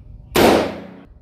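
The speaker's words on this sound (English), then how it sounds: "Grenade again." A grenade detonating at a shooting range, heard as a single sudden, loud blast that decays over about three quarters of a second.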